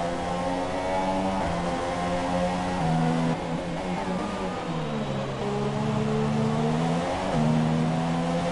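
Formula 1 race cars in the F1 2017 video game accelerating out of a corner at the Canadian Grand Prix, several high-pitched engines screaming and climbing through the gears together, loud and continuous with rising and shifting pitch.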